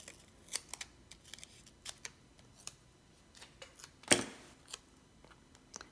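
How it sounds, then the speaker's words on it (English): Scissors snip a photograph while it is trimmed for a collage, with several brief, quiet cuts spread out at an uneven pace and one louder, sharper snip near the end, all at close range. "I think I'll trim this a little bit closer."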